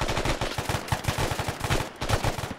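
Rapid bursts of video game gunfire crackle through a shooter match, fast repeated shots like automatic fire running almost continuously and loud up front across the whole stretch.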